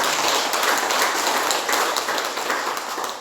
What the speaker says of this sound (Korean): 박수 한번 보내시기 바랍니다